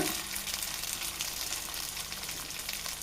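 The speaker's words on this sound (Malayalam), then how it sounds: "ഞാനിപ്പോൾ സാധാ പച്ചവെള്ളമാണ് ഒഴിച്ചു കൊടുക്കുന്നത്." Plain water goes into a hot pan of frying rice for Yemeni mandi, setting off a steady, broadband sizzle and hiss that holds evenly for about three seconds with no voices.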